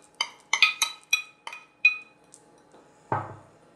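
Carrot and other ingredients being mixed in a large bowl, with about six bright, ringing clinks of a utensil against the bowl in quick succession, then a pause and one duller knock, close and isolated.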